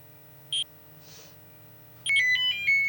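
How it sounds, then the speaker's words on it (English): A phone ringtone chirps in a room during an interview, with a brief electronic tone early on, then a louder melodic ringtone pattern sounding repeatedly near the end over a low background hum. "My phone's ringing again."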